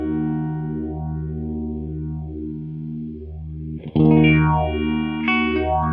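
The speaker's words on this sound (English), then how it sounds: "as I wind up the resonance here, it's going to give me a more interesting phaser sound that the PH-1 couldn't do" An electric guitar runs through a Boss phaser pedal with the resonance turned up, giving sustained chords a deep, sweeping whoosh that cycles up and down. A fresh strum near the middle rings out brighter and louder, and the sweep carries on.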